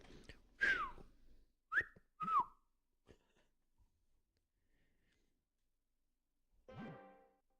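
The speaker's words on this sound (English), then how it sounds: "Why can't I whistle?" A person whistles in a few short rising-and-falling bursts, fairly close and clear, amid a quiet room during a gaming session, with a brief breathy sound near the end.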